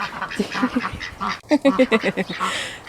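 Garden ducks quack in a burst of loud, close, rapid nasal calls, with a short pause before another run of quacks and some background rustle.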